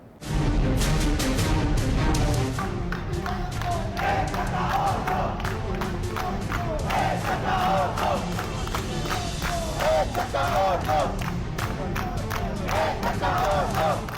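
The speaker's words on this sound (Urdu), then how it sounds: "مظاہرین نے حکومت کے خلاف نعرے بازی کی" Crowd of PTI protesters chanting political slogans outside Avenfield in London, a loud, continuous mass of voices with rhythmic shouted bursts and scattered clapping throughout.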